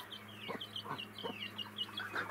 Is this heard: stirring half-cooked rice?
no